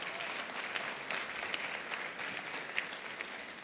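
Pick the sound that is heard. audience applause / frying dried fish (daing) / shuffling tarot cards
audience applause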